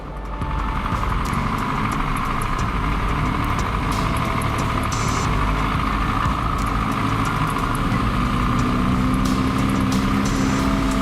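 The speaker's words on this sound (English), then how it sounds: "The power of the ZIL 157 is truly impressive. There's no terrain that can stand in its way." A ZIL 157 truck drives over rough terrain, its engine a loud, continuous drone mixed with rattles and clunks from the chassis, heard up close throughout with no talking.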